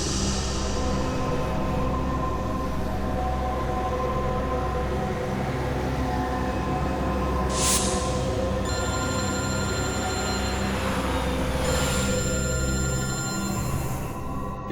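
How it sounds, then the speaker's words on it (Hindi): An electronic telephone ringtone repeats in even, ringing tones in a police drama scene, sounding clearly over a continuous low background hum with no talking. "एसीपी साहब का फोन?"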